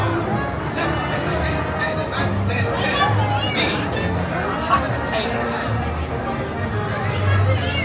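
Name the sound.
crowd chatter at Disney California Adventure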